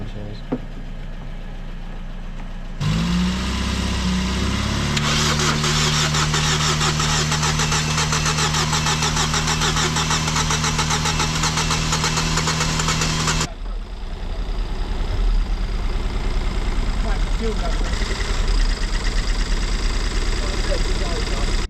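Ford Fiesta ST180 with a cracked cylinder head starting on the keyless button, the starter whine and catch followed by a loud, uneven, lumpy idle that drops in pitch partway through and carries on steadily.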